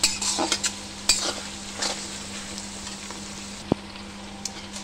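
Onions sizzle and fry steadily in a pan for a meat curry, with occasional scrapes and clicks of a spoon stirring against the metal, quiet and close.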